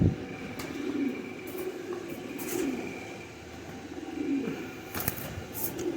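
Breeder pigeons, including a pair and a female, coo repeatedly in low, throaty phrases close by, over a steady background murmur with faint high chirps.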